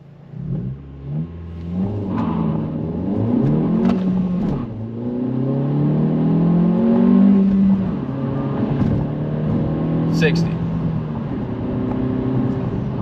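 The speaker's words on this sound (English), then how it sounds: "Squeal the wheels a little bit." A 2025 Honda Civic Si with mods launches hard, its mid-pitched engine revving and climbing through the gears close up, with a brief high tire squeal partway through the run.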